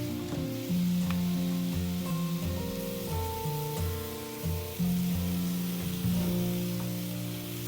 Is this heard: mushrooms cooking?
yes